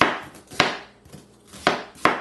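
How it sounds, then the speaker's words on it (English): Onions are chopped on a cutting board with a knife, giving four sharp, close knocks spaced irregularly, each with a short papery crunch, no voices. "Alright, you just cut your onions up."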